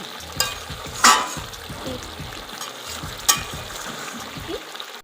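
Chicken liver and gizzard are sautéed in a pan, with a moist, bubbling sizzle and repeated scraping stirs and a few sharper utensil knocks, close up and without speech.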